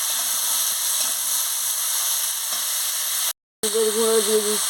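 Sliced cucumber and ridge gourd fry and get stirred in a pan, giving a continuous hissing sizzle with soft scrapes; the sizzle briefly cuts out before resuming louder.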